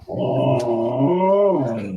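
One dog lets out a long, close, loud growl with a rising and falling tone that lasts about two seconds.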